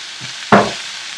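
Onions and masala ingredients in a pan for soyabean and spinach pulao, a single sharp stir or scrape burst with brief sizzle over quiet background.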